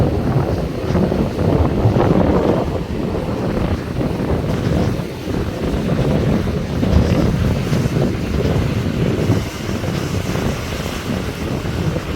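A rough sea pounds the shore at Point Pedro in heavy wind, a continuous loud roar of breaking waves and gusts battering the microphone, with no voices.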